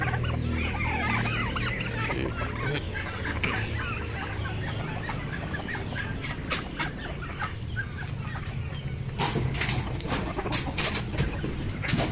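Chickens cluck and murmur continuously on a farm where ducks are also kept, several birds close by, with a burst of louder, sharper clucking and scuffling near the end.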